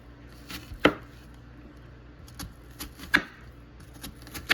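A knife chopping an onion on a cutting board, a handful of sharp irregular knocks and taps close by with short gaps between, no talking.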